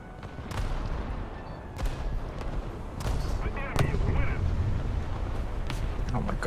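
Naval guns boom in a boat battle game, with sharp broadband blasts and shell impacts spread through the clip over a constant rumbling background; someone talks over parts of it.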